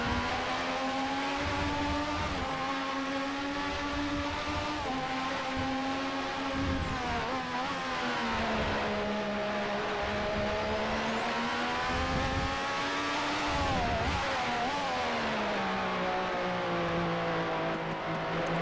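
Williams FW11B turbo Formula One car in Assetto Corsa, its engine howling through repeated quick upshifts and rapid downshifts with sharp pitch drops and rises, loud and continuous with no talk.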